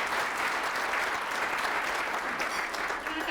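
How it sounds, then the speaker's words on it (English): Sustained audience applause at a Junior Achievement awards breakfast, a steady dense wash of many hands clapping at moderate distance, holding evenly throughout with no voices over it. "Let's give her a round of applause"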